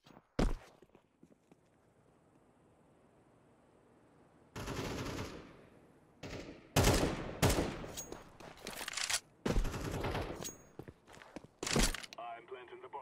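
Bursts of automatic gunfire from a Counter-Strike 2 match come in several loud clusters, each a second or two long, separated by quieter stretches with faint footsteps. The shots sound near and sharp.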